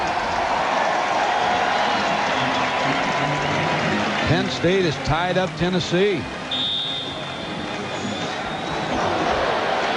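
A stadium crowd roars steadily throughout a college football bowl game between Michigan and NC State, a broad wash of cheering running under a public-address announcer's voice.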